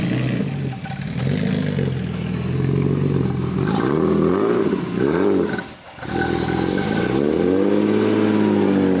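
A car engine revs hard several times in rising and falling sweeps, loud and close, with a short drop in between. A brief pause comes before the final long rev.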